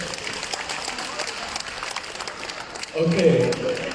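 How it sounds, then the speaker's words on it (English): Applause from an audience at a community talent quest, honoring a coach: scattered clapping under a busy hall ambience, swelling into a louder burst near the end. "another round of applause for Coach Ken"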